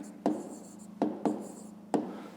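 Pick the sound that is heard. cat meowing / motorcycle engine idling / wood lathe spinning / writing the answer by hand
writing the answer by hand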